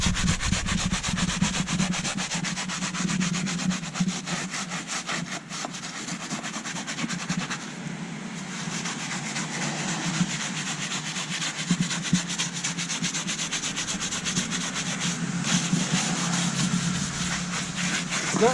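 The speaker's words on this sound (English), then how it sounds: "We'll scrub this tire a while." Brush scrubbing a muddy truck tire during a wash, a steady, close, rasping scrub with rapid back-and-forth strokes that continues without pause.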